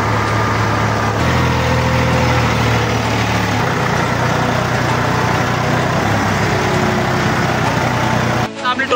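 A tractor hauling an overloaded sugarcane trolley drones with a loud, steady low engine rumble that shifts pitch partway through, heard close with voices talking over it.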